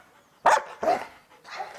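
Three short, sharp dog barks close by, spaced about half a second apart, the last one softer.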